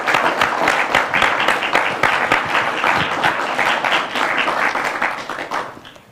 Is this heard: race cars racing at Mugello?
no